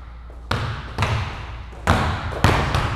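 A basketball is dribbled on an indoor court during guard finishing drills, giving four sharp, loud bounces at uneven intervals, close by with no voices.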